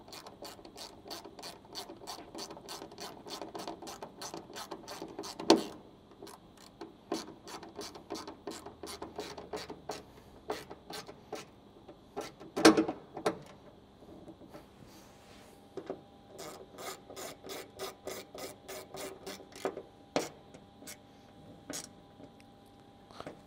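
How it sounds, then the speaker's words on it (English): Ratcheting T30 Torx driver tightening bolts on a Toyota Tacoma bed side storage panel, producing quick bursts of close, crisp ratchet clicks with brief pauses between runs. "now using that T30 Torx again, we're going to go ahead and tighten these up"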